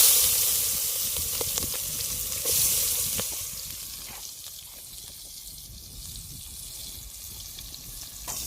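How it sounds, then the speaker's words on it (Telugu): Onions frying until brown in a pan at a canal-side campsite, a close, steady sizzle and hiss with a few stirring clatters, gradually settling to a softer crackle. "ఉల్లిపాయ బాగా ఫ్రై చేసుకున్నాం,"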